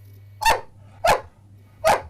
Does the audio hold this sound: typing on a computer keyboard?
no